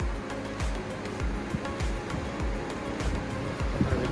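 Sea waves rolling onto the shore at a coastal spot where the surf is high and deep, a loud continuous roar with repeated low surges breaking every half second or so, wind noise mixed in.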